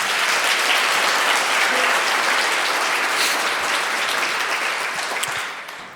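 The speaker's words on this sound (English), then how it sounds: "Let's give her one more round of applause" An audience at an annual conference keynote claps in sustained, dense applause, loud and even for several seconds, then tapering off at the end.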